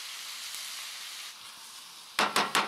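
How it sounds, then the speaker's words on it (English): Garlic grated straight into a hot skillet for chicken with figs, giving a steady soft sizzle that eases midway, followed by three short loud bursts of crackling near the end. "Grate our garlic right down into the skillet."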